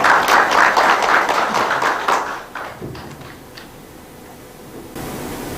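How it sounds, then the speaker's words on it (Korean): An audience at a policy forum on apartment housing management applauds to welcome a speaker, dense clapping at first that thins out and fades into scattered claps and room noise. "여러분 큰 박수로 환영해 주시기 바랍니다"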